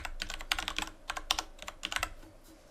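Someone types on a computer keyboard in a short burst of quick, close, crisp keystrokes that come in uneven clusters and then trail off.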